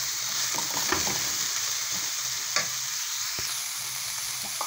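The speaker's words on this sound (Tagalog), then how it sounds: "Haluin lang po." Noodles with cabbage and vegetables stir-fried in a pan, a steady close sizzle with scattered scrapes and clacks of the utensil as the mix is tossed, no voices.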